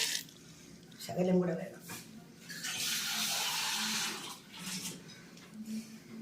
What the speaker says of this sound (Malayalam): ഇതിനൊരു 1 കപ്പും 1 ഗ്ലാസും വെള്ളവും കൂടി ഇതിനകത്ത് ഒഴിക്കുന്നു